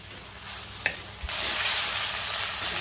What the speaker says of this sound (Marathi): 2 ते 3 मिनिटं मी व्यवस्थित परतून घेणार आहे हे वाटण.